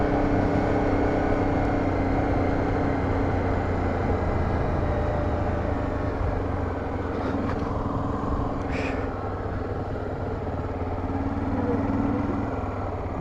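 A motorcycle engine runs with a steady, loud rumbling drone throughout, holding a fairly constant pitch with only mild swells rather than sharp revs.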